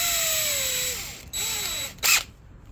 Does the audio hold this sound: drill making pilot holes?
yes